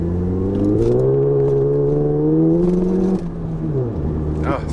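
A VW Mk7 GTI with an IS38 turbo upgrade revs up under hard acceleration, the engine note climbing loudly and close from inside the car, then easing off around a gear change.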